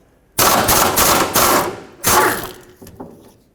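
An impact wrench whirs and rattles in loud bursts as it backs a 10mm bolt off the rear bumper of a 2009-2014 Ford F-150 through a socket, swivel and extension. Three close, rapid runs are followed by a fainter tap, with no talk.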